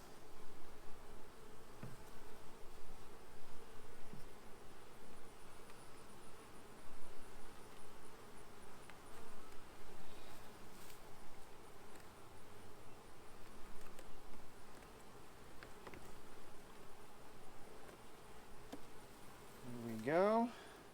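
Honey bees hum steadily around an opened prototype horizontal hive, a continuous close buzzing drone throughout, with a brief sharp handling noise near the end.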